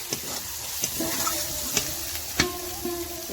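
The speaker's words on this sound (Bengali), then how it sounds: "এবার আমরা দিয়ে দেব হলুদ গুঁড়ো, দিয়ে ভালো করে নেড়ে" A spoon stirs chilli and turmeric powder through a spice mix in a pan, with a soft continuous sizzle and a few light scrapes and taps against the metal.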